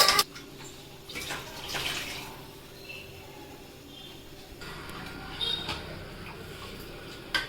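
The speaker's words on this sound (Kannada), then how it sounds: "ಸ್ವಲ್ಪ ನೀರು ಹಾಕೊಂಡು ಹಾಕ್ತೀನಿ." Water is splashed into a pot of lentil sambar with drumstick pods in a home kitchen, a loose pouring and trickling with a few clinks and pauses, fairly close and moderately loud.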